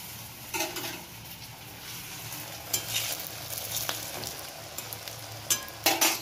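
Potato ring snacks fry in hot oil with a steady, close crackle and sharper bursts of spitting that swell and fade. No one speaks.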